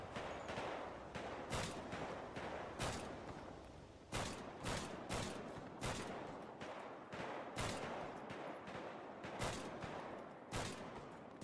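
Rapid bursts of gunfire from a GTA RP (NoPixel 4.0) roleplay shootout involving a Buffalo car, with repeated sharp volleys crackling steadily across the whole stretch, loud and close.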